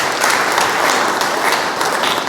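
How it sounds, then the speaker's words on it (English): Audience applause fills the room at a schools association workshop hosted in a hotel: dense, continuous clapping from many hands, steady and fairly loud for a couple of seconds. "I would like to give a round of applause."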